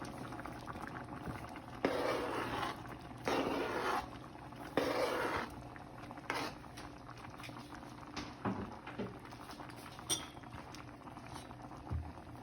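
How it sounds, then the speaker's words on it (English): A pot of pasta with cauliflower and broccoli bubbles at a rolling boil, a steady soft burble with brief louder surges and occasional clinks, with no talking. "the cauliflower and the broccoli. And let those cook."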